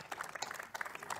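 Audience applause for conference speakers at an event with a National Space Centre guest, a short burst of scattered clapping at moderate level, fairly close.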